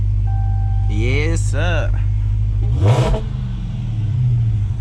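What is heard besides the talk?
Dodge Hellcat car engine rumbling at drive start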